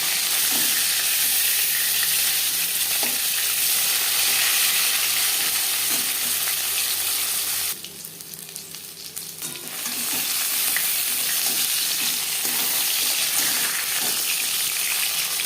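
Pieces of katla fish frying in hot oil give a steady, close sizzle with stirring scrapes throughout, dipping briefly quieter midway before the crackle returns at full strength.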